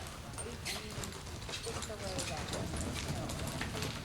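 A horse loping around an arena under a rider, hoofbeats steady but partly buried beneath continuous instruction shouted by a trainer nearby.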